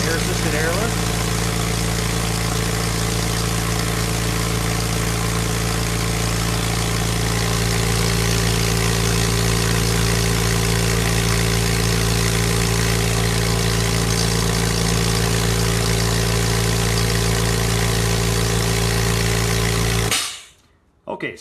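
An air compressor feeding a Graco 395 air-assisted airless sprayer runs with a steady, loud, droning hum for about twenty seconds, then cuts off abruptly near the end.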